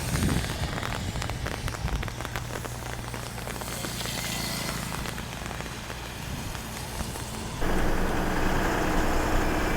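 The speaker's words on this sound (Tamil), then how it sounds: "மழை இன்னும் விடலங்க" Heavy rain drums steadily on a truck cab during an Andhra highway drive near a toll gate, with an engine rumbling underneath; the downpour swells louder near the end.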